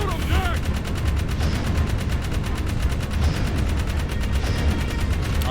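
Rapid, continuous video-game gunfire from Jak 3, a dense machine-gun-like rattle of steady shots running the whole time at constant loudness, with game effects layered in.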